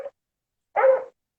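A dog lets out two short barks close up, a tiny clipped yip at first and then a fuller bark, with silence between them.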